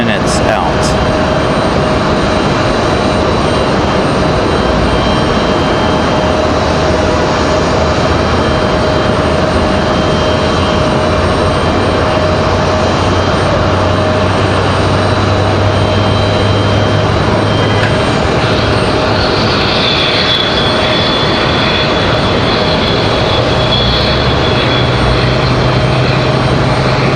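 A jet airliner at Raleigh-Durham International Airport, a Delta flight bound for Atlanta, gives a steady, broad engine roar that holds throughout and swells slightly near the end, with light background speech.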